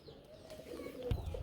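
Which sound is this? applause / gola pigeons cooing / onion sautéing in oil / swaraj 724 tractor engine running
gola pigeons cooing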